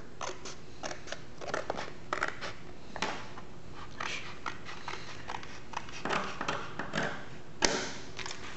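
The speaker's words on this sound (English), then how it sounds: "I'm just going to try to cut a straight line through." Scissors cut by hand through cardboard in a string of close, crisp snips and crunches, irregular in rhythm, some strokes sharper and louder than others.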